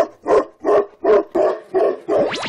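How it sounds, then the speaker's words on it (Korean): A Tibetan mastiff at a kennel barks loudly and close, six deep, evenly spaced barks, the last trailing into a rising whine. "여전히 금표의 짖음은 멈출 줄을 모릅니다"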